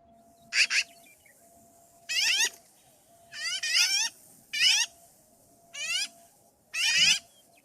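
Black-billed magpie calling, with six harsh, buzzy, kazoo-like bursts spaced about a second apart against a quiet background with a faint steady hum.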